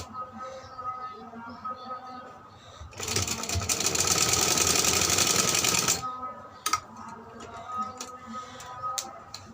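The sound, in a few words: sewing machine stitching a baby frock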